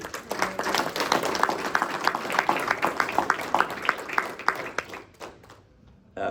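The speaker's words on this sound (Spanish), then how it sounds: "Denle un aplauso al Señor" Church congregation at Iglesia Oasis in Hesperia, California clapping in praise: dense, fairly loud applause with distinct individual claps, holding steady for about five seconds before fading out.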